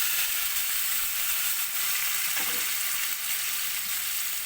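String beans (sitaw) fry in a pan with a loud, even sizzle and hiss that holds steady throughout, broken by a faint stirring clink partway through.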